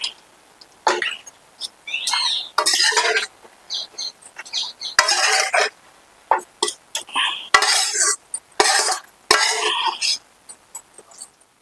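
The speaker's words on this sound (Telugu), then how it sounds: "చూడండి అంతా దీంట్లో కలిపేస్తున్నా" A spoon scrapes and knocks repeatedly against a pot as soya chunks are mixed into gongura chutney, giving loud, close, irregular bursts of stirring.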